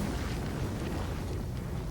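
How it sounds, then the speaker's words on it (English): A fireball spell explodes in Baldur's Gate III, a dense, sustained roaring blast of broadband rumble filling the whole moment without a break. "How about a little fireball?"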